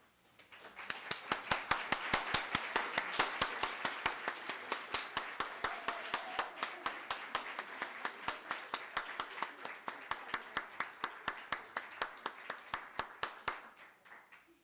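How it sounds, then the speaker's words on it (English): Sparse clapping, a small group or single pair of hands, steady and evenly spaced, continuing for about fourteen seconds before stopping. "one more round of applause"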